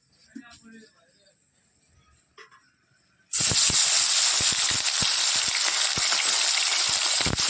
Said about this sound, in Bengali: মাছে হলুদ নুন মাখিয়ে নিয়েছি চলো তেলও গরম হয়ে গেছে দিয়ে দিই দুটো তিনটে করে দিয়ে দিই